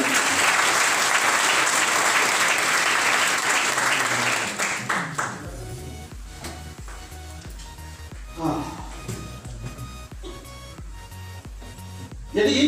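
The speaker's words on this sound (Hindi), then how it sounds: "नॉनी के लिए एक बार जोरदार ताली होनी चाहिए" Loud audience applause at a distributor orientation seminar, a dense roar of clapping for about five seconds that thins out, followed by scattered sparse claps and room noise with a few quiet voices.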